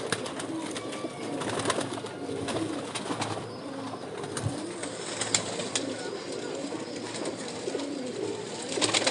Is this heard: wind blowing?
no